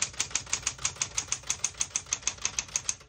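Steady, evenly spaced keystrokes clack on a 1973 Smith-Corona Galaxie Twelve vintage portable typewriter, about six crisp strikes per second, close and alone with no talk.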